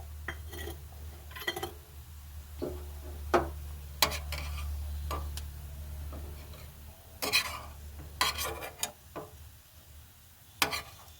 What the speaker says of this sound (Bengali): আবারও যেগুলো রয়েছে ভেজে নেব